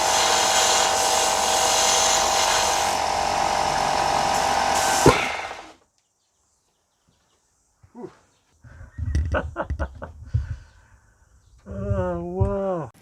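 A Makita 18V X-LOCK angle grinder runs hard under load with a loud, steady high whine, then bogs and cuts out as it stalls. Speech and clattering follow after a short silence.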